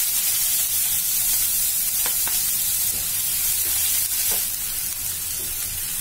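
Onion fries with whole spices such as cumin and cardamom in a pan for katla fish kalia, a constant close sizzle with occasional soft stirring scrapes.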